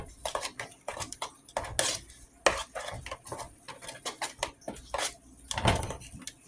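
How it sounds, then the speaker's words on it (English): A spoon stirring a baked chicken dish in a pot, rapid close clinks and scrapes against metal in an irregular rhythm, no voices. "Give everything a stir."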